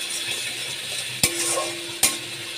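Cabbage and ginger stirred in a frying pan with a steady low sizzle, broken by two sharp scrapes or taps of the spoon against the pan.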